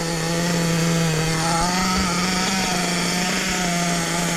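Small nitro engine of a Hobao Hyper VS2 RC buggy running steadily during break-in, a continuous buzzing drone with a slight wavering pitch, loud and close, with no talk.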